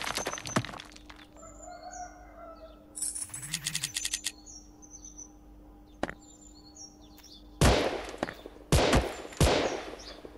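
Gunfire in a shooting video game: short bursts of shots with sharp broadband cracks, louder and denser clusters near the end, with a game tone and bird-like chirps in between.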